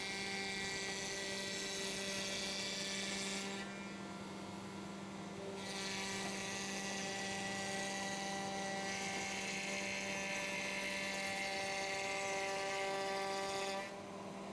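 Router cutting a T-track slot in wood, sending out a loud, steady high-pitched whine that briefly drops in intensity between passes.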